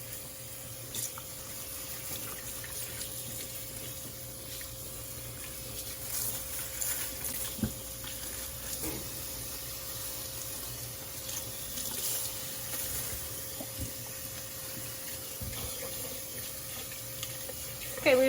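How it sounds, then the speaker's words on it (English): Tap water running steadily into a kitchen sink while a raw Thanksgiving turkey is rinsed, a continuous close splashing flow with small knocks and shifts of the bird, no talking. "The next thing we're gonna do is rinse this bird really well."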